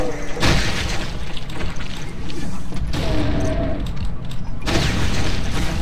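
Super shotgun blasts from Brutal DOOM, loud booming shots with crashing, shattering impacts layered over dense in-game action, with a brief voice near the start.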